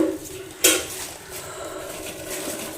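Freshly bought catla fish tipped from a container into a metal pan, one sharp wet clatter followed by faint dripping and kitchen hum, close by and alone.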